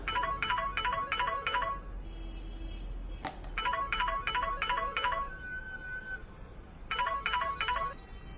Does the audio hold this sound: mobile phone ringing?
yes